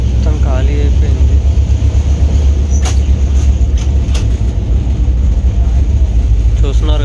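Inside a moving passenger train near Dudhsagar waterfalls in Goa, a constant heavy low rumble and rattle fill the carriage, with faint voices and a few light clicks over it.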